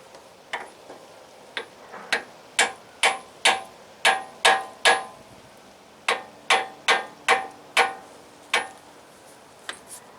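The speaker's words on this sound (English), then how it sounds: "I'm going to have to tap on it with a hammer to get it to go face the right direction" A hammer taps on a bent upper ball joint part of a GMC K3500 truck in sharp metallic clicks, first in a few sparse hits and then in quick runs of five to eight evenly spaced taps with short pauses between them.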